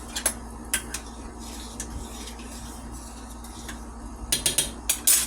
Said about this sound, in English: I'm going to give that macaroni a stir